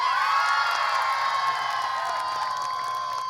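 Large crowd at an Indonesian Ramadan religious rally shouting and cheering loudly in response, a sustained dense roar of many voices holding steady for several seconds.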